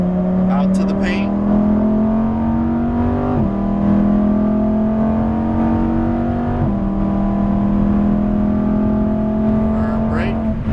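A 2018 Lamborghini Huracan Performante engine on track, loud and close, holding a strong droning pitch that rises in steps with gear shifts, under a coach's spoken instructions.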